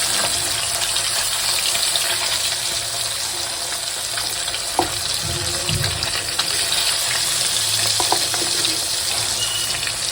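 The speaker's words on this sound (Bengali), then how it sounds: "চারটে করে আমি মাছ ভেজে নিচ্ছি" Steady, dense sizzling of taki fish frying in hot oil fills the whole stretch, loud and close, with a couple of faint knocks partway through.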